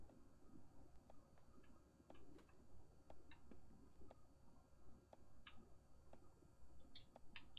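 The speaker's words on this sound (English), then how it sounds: "I can hear a clock or something." A clock in Layers of Fear 2 ticks at an even, roughly once-per-second pace, faint and quiet against a low, murky ambient background, with a few soft higher clicks scattered through.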